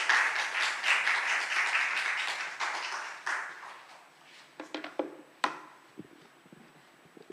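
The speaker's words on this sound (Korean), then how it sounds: "우리 환영과 사랑의 박수를 우리 함께 드리고" A church congregation claps to welcome a missionary, dense applause filling the room at first, then thinning into scattered, fading claps and a few knocks.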